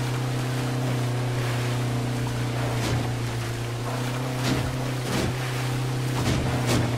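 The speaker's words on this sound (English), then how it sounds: "Sounds like there's water in the engine." Steady low droning of a boat engine in the H1Z1 battle royale game, running rough as though water is in it, close and continuous with periodic splashes and wave wash breaking over it.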